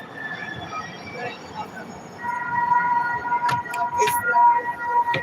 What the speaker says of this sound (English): we have a train that goes through here every 20 minutes or so excuse the noise